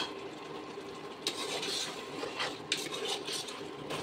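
Pumpkin and dal are stir-fried in a pot, with soft scraping and rubbing strokes of a spoon over a quiet sizzle, a few louder scrapes standing out, close and without talking.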